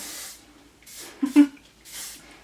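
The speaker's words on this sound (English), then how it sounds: "this hairspray, if you're curious, is Redken Fashion Work 12" Redken Fashion Work 12 hairspray is sprayed onto hair in three short, close hissing bursts, with a brief breathy vocal sound between the second and third.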